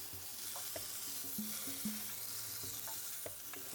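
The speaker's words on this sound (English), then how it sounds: "So you have to sear that until brown and turn it, and then baste it also so that it doesn't dry out." Lamb chops sear in a hot pan with a steady broadband sizzle, broken by occasional clinks and scrapes of a utensil turning and basting the meat, close and continuous with no talking.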